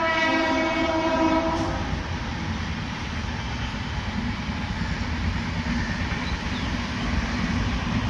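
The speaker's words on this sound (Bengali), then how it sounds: "ট্রেন গাড়ি যাচ্ছে" A train passes near a pond in stormy weather: a loud horn blast for the first two seconds, then a steady, heavy rumble and rattle of wagons rolling by close at hand, with no voices.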